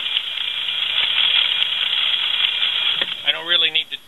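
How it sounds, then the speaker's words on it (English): A heavy-duty sewing machine set in low gear stitches through web strap with a steady, close mechanical chatter, then shifts into a wavering, rising whine near the end. "you can see I put it in low gear here, and now it'll run 1/5 the speed but have 5 times the needle penetration"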